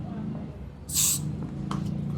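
A short hiss of an aerosol spray bursts once over a low background hum, followed by a faint softer puff.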